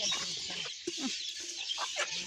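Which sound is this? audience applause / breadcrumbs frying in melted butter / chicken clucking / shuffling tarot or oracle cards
chicken clucking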